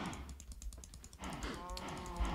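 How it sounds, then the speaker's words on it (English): Faint mooing of many spawned cows in Minecraft, soft low calls overlapping with quick computer keyboard typing clicks in the background. "Spawning lots of cows."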